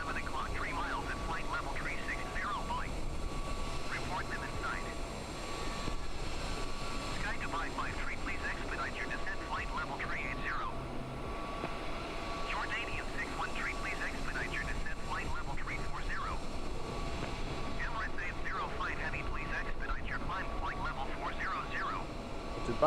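Airliner engines in Microsoft Flight Simulator, a Boeing 787-10 flying from Bahrain to Muscat, give a continuous droning roar at steady level for over twenty seconds, with a voice talking intermittently over it.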